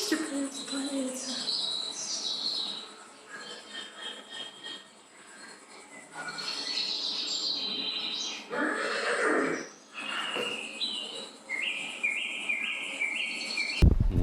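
Birds chirp and tweet outdoors in a steady, fairly loud chorus of high calls, with some louder bursts and repeated trilling notes, and no talk.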